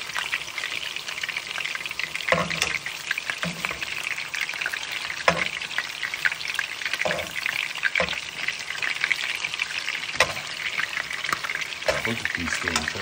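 Meatballs browning in a frying pan give off a dense, continuous sizzle and crackle, with scattered stirring scrapes and spatters breaking through at intervals.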